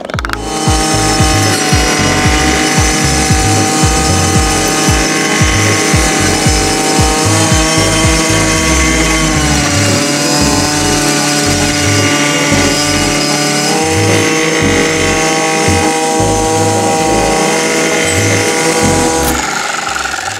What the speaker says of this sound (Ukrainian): І давайте спробуємо диск 24T на цій високій траві.